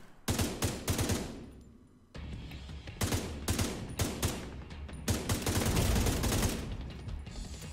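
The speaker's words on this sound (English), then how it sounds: "No, he's just freaking shooting me." Enemy gunfire in The Division 2 rattles off in repeated loud bursts of rapid shots. It breaks off in short pauses and then resumes, close and sustained, with no talking over it.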